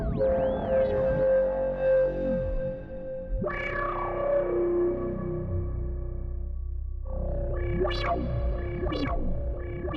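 Novation Peak synthesizer playing a screechy patch through effects, sustained distorted notes with warbling pitch bends, echoes and chorus shimmer, held continuously at moderate volume with no voices.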